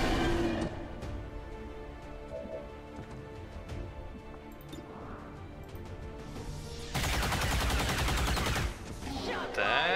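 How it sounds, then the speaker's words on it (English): Gunfire in XCOM 2, a rapid burst of shots near the end that rings out loudly over the game's background music and ambience, with a smaller burst at the very start. "Let's just stay back and shoot him from a distance."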